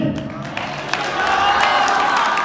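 Church congregation clapping and cheering during a Sunday sermon, a steady wash of applause from a crowd that swells and grows louder midway, with voices mixed in.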